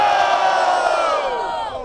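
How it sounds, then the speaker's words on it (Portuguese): A large crowd at a Brazilian rap battle roars and cheers loudly and continuously, a dense wall of shouting voices that holds steady and then eases slightly toward the end. "muito barulho pra essa batalha aí"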